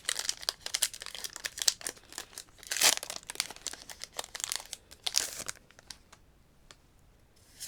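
A Pokémon card booster pack wrapper is torn and crinkled open up close, a run of crackling rips that peaks midway then fades to quiet.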